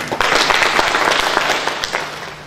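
Applause at an African festival thank-you ceremony, sustained and fairly loud, with dense overlapping claps and a few louder individual claps standing out.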